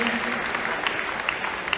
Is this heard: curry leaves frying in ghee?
no